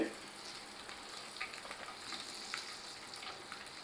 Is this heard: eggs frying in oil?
yes